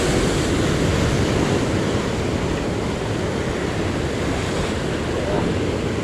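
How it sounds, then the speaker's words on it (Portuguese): Sea waves rolling onto a Portuguese shore during fishing practice, a continuous loud wash of surf with wind rumble against the microphone, steady for several seconds with no clear speech over it. "Espera aí, deixa este mar vir agora"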